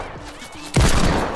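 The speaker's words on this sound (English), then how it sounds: "they're shooting that wall down" Gunfire erupts in Fortnite as players shoot at a wall, a sudden loud burst of shots following a brief quieter moment, close and sustained to the end.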